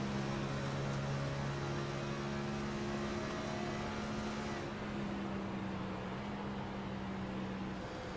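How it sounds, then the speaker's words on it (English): A race car in iRacing at Texas Motor Speedway drones steadily with a humming engine tone that drops in pitch as it downshifts through the corners, heard from on board and without talk. "You hear him downshifting through the corners here at Texas Motor Speedway"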